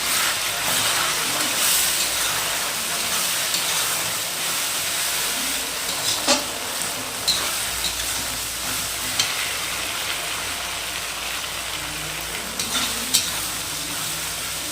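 Dried red chilli, cumin and ginger paste sizzle steadily in a hot pan of oil for sidol, a loud continuous frying hiss with a few brief scraping clicks of stirring throughout.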